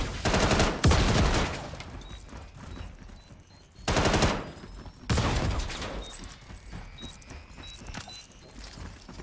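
Bursts of automatic gunfire and sharp blasts from a Star Citizen Star Marine firefight, loud repeated volleys at about one, four and five seconds with lighter shots and clatter between.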